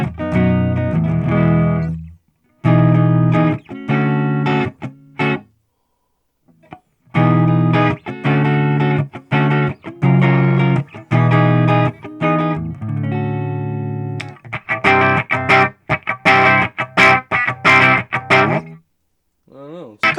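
Electric guitar played through a budget $365 half-stack amp, loud chords and single-note phrases in bursts with short pauses, the later part brighter with faster picked runs.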